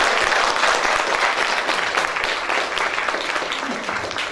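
An audience at a book festival event claps loudly and continuously, a dense wash of applause from a crowd that holds steady for several seconds before easing slightly.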